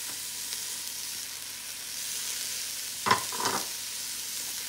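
Steady hiss of carrots frying in a pot for bhaji rice, with a brief scrape of stirring near the end and no voices.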